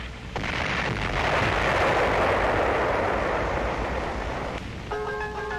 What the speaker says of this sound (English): Lhasa, under communist bombardment